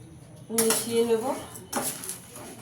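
Fried chanachur snack being mixed with spices in a metal pan: two bursts of clattering and scraping from a spoon against the pan, each with a ringing metallic tone, separated by a brief quiet gap.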